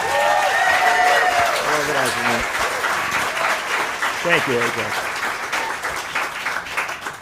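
Audience applause for an event organizer at a community unity gathering, a steady wash of clapping throughout with someone briefly speaking over it.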